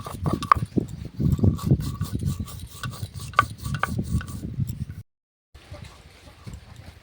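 Dried spices for a raw mango pickle are crushed by hand, giving a close, rough rasping and grinding in uneven rhythmic strokes that stop briefly before starting again.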